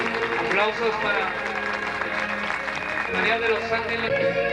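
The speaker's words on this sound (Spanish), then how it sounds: "Aplausos para" Applause at a quinceañera celebration, clapping from guests blended with music and voices in a lively room, fairly loud throughout.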